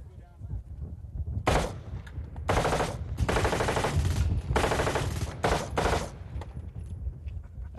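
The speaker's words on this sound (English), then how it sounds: "This is an M16 with the 100-round magazine." An M16 rifle fitted with a 100-round magazine fires long, loud automatic bursts outdoors, several sustained strings of rapid shots separated by short pauses.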